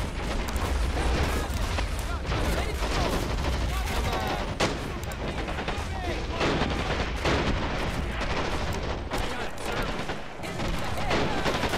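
A mortar fires amid a dense World War II battlefield in Men of War Assault Squad 2 during the Omaha Beach landing, with continuous heavy booms and gunfire packed together without pause.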